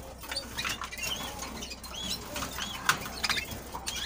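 Small birds chirp and twitter in short bursts, with wings fluttering and light scratchy pecking close by, over a steady outdoor hum.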